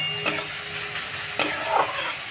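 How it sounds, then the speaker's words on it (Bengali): Carrot pieces stir-fried in a pan give a steady sizzle, broken by two quick scraping strokes of a spatula, close and fairly loud. "গাজরটা নেড়ে চেড়ে ভেজে নিয়েছি,"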